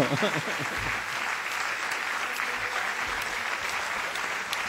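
Sustained applause from a crowd at an Italian assembly meeting, steady clapping throughout with a few voices faintly underneath.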